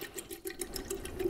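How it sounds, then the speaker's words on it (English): Melted coconut soy wax is poured into a pitcher, a faint, soft liquid trickle and splash heard close by in a quiet room. "I'm gonna go ahead and pour this into a pitcher."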